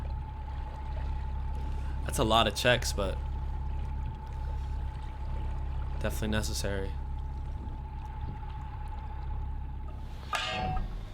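A narrowboat's engine idles steadily on a canal, a low continuous drone with a faint steady whine running throughout, while a person talks over it at intervals.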